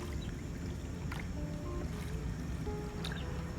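A small boat moves steadily through water in Vietnam, with soft splashing and a constant low rumble throughout, plus a few faint bird calls in the background.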